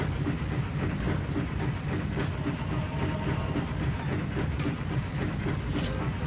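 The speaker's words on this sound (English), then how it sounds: "The train will take us." Train moving in the MediEvil video game, a steady rumbling clatter of wheels on rails with occasional faint knocks, continuous and even throughout.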